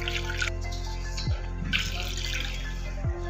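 Water poured onto tamarind and dates in a bowl, a steady splashing trickle with a few sharper drips, heard close over a constant kitchen hum.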